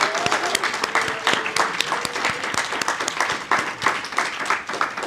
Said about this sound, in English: Can we do one more round of applause for everyone?